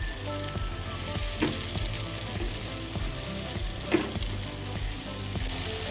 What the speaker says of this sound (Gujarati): કાંદા સરસ સતરાઈ ગયા છે તો આપણે ટમેટું જે ક્રશ કરીને રાખ્યું છે ને તેને પણ આપણે એડ કરી દઈએ